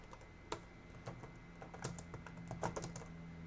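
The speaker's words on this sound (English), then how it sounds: "I'm gonna get quicker with typing." Quiet typing on a computer keyboard: a run of irregular soft key clicks with a few louder taps, heard alone against faint room hum.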